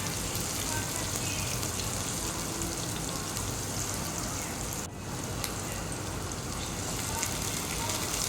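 Sliced onions fry in a pan with a loud, dense, continuous crackling sizzle close by, dipping for a moment partway through; a voice talks faintly beneath.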